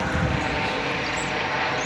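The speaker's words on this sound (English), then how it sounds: "Alright, a news chopper." A news helicopter passes overhead outdoors, a steady, droning engine-and-rotor rumble at moderate distance, continuous and unbroken with no talking.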